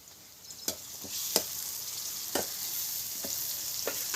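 Chili and garlic paste sizzles steadily in a hot pan, with a continuous bright frying hiss punctuated by several sharp stirring clacks of a utensil against the pan, close and fairly loud.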